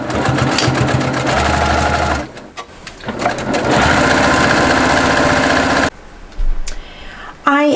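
A sewing machine stitches a quilt topper in loud, close, steady runs of rapid needle chatter, pausing twice briefly before resuming, with a voice talking in between.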